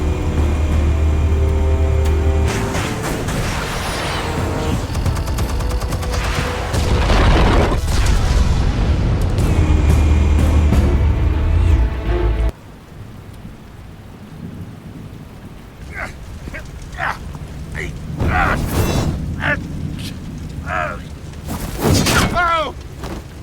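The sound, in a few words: explosives detonating in the video game Batman: The Telltale Series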